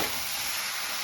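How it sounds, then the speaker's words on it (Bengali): Jackfruit sautéed in a pan with cumin and coriander powder produces a brief, dense, unbroken sizzle, close and even, with no voices. "আরও একটু ভালো করে আমি কাঁঠাল কষে নেব।"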